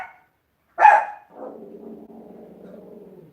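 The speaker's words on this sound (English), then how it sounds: "What are you woofing about?" A dog gives one sharp close bark, then a lower drawn-out growl that trails off, in an otherwise quiet indoor room.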